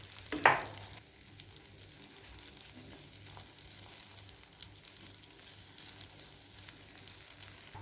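Oats and egg omelette mixture poured into a hot pan, a brief loud splash followed by a steady, soft crackling sizzle that continues close by with no talking.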